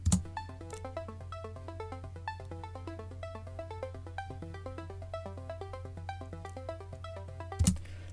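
A synth arpeggio from a bootleg remix runs in rapid, even stepping notes over a steady low sustained tone, quiet and continuous, with a brief louder hit at the start and near the end.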